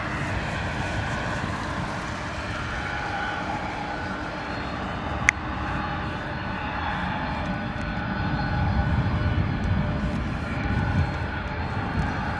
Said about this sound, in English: British Airways Dreamliner coming in